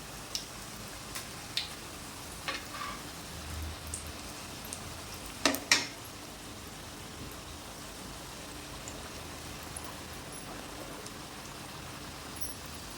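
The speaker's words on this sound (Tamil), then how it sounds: "இது வந்து ரொம்ப ஹை ஃப்ளேம்லேயும் இல்லாமல் ரொம்ப லோ ஃப்ளேம்லேயும் இல்லாமல் மீடியமாக வச்சு தான் நான் ஃப்ரை பண்ணிகிட்ருக்கேன்" Badam poori frying in hot oil over a medium flame makes a soft, continuous bubbling sizzle, with a few sharper pops and crackles scattered through it and one louder spatter partway.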